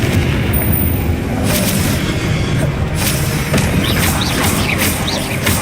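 A Confringo blasting spell explodes in Hogwarts Legacy as a steady rumbling boom with a few sharper impacts layered on top, and no speech is heard.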